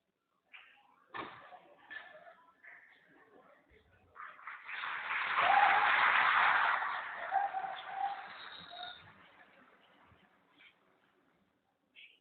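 Audience applause welcoming a speaker at a university colloquium hall, starting with scattered claps, swelling to a fuller round in the middle, then thinning out to silence.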